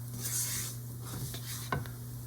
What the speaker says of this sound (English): There we go, just mix that up. It's gonna be a little pasty.